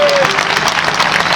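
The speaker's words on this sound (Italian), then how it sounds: "Lo facciamo un grande applauso" A concert audience with an orchestra in Albignasego applauds an eight-year-old performer: a dense, steady wash of many hands clapping at once, loud and continuous for the whole moment.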